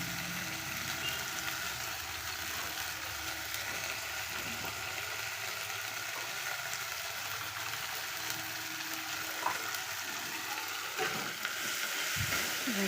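Dhoka with turmeric, salt and chili powder sautés in a pan, a steady close hiss of frying with occasional stirring scrapes and clinks, no talk.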